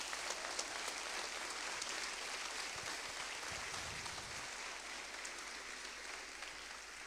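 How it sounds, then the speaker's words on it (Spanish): Steady, dense clapping from a large church congregation during a sermon, sustained and even throughout, with a low rumble swelling briefly in the middle. "Un aplauso al Señor entonces."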